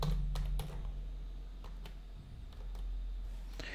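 Keys tapped steadily on a computer keyboard while code is entered, a run of soft clicks over a low constant hum, no voice present.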